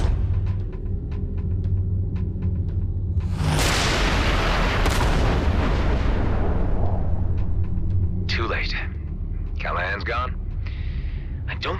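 Artillery fire in the space combat game Everspace 2: a loud, close boom erupts and rolls into a long decaying rumble over steady engine hum, with voices speaking afterward.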